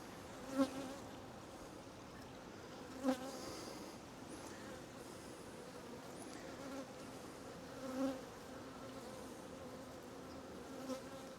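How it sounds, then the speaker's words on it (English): Honey bees buzz steadily around a queen bee in a hive, a dense close hum with a few brief louder swells as bees pass near, no voices. "the bees are all over her"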